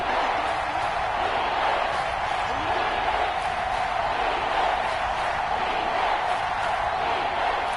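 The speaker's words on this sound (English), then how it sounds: "The crowd getting into it as we come up on a big 3rd down." A football stadium crowd roars in a dense, steady wall of cheering before a big third down, loud and continuous with no break.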